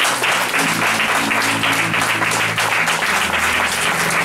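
An audience at a church gathering in Versailles applauds steadily and loudly, a dense wash of clapping with a few faint voices and a low hum underneath, sustained throughout.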